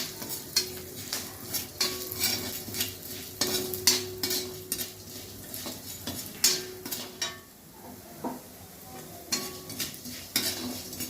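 Urad dal frying in oil in a pan, with a soft sizzle under frequent stirring: a spoon scrapes and clinks against the pan in quick, uneven strokes, close by and fairly quiet, with no talking.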